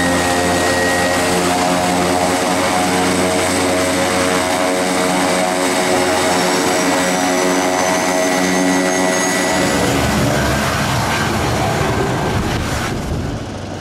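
A Beechcraft Super King Air 200 turboprop flying to Isla Juan Fernandez, Chile, drones loudly and steadily with a humming propeller tone throughout; the low rumble drops noticeably near the end.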